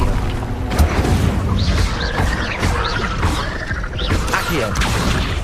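Incendio fire spell in Hogwarts Legacy combat, a loud roaring burst with thuds, creaks and crackling impacts over several seconds, plus short whooshing magical swishes on top.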